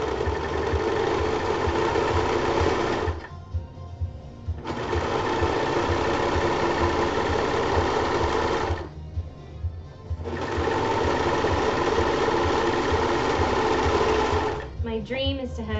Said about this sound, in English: I think I'm also going to serge the ends before they're put together.